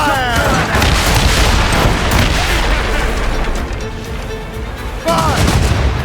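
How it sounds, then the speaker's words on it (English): A naval battle in Assassin's Creed Rogue as a cannon volley fires, loud dense booms and blasts piling into a continuous roar with a fresh burst near the end, voices shouting faintly underneath. "They're firing a volley!"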